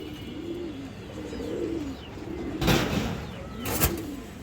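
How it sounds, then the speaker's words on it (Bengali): A domestic pigeon at a pigeon sale coos close by in a soft, repeated rolling call, several phrases in a row over low background noise, with a couple of brief rustling bursts between. "এই যে দেখেন কবুতরটা অনেক সুন্দর একটা কবুতর"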